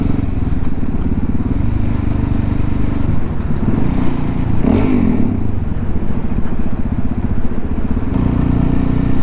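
A Suzuki DRZ400 motorcycle drones loudly and continuously while being ridden, its engine note swelling in a brief rev midway, with steady wind and road noise underneath.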